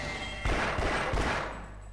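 A quick burst of three muffled gunshots over low background noise, game gunfire in Half-Life.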